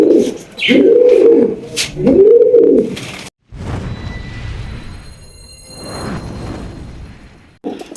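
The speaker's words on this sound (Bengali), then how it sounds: "দর্শক দেখতেই পাচ্ছেন চমৎকার এক জোড়া ব্ল্যাক লাখা" A pair of large Black Lakha pigeons coo in repeated rolling, throaty calls close by, loud at first, then fading into softer background cooing and shuffling.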